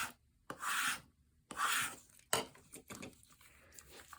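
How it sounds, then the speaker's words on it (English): A scraper tool burnishes vinyl onto transfer tape in three firm, close rasping strokes, followed by shorter, lighter scraping rubs, with no one talking. "take your scraper tool and burnish the vinyl to the transfer tape"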